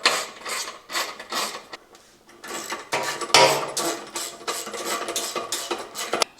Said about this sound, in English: now you can go ahead and gradually tighten all the bolts